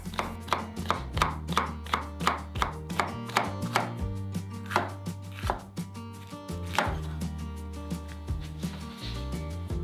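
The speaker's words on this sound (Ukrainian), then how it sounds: "Нарізаємо кабачок кільцями. А далі йде солодкий перець." A knife chops zucchini into rings and then sweet pepper on a board in a warm kitchen, with brisk, evenly spaced close knocks that keep up a steady rhythm throughout.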